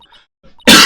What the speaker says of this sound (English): Coughing is the worst thing.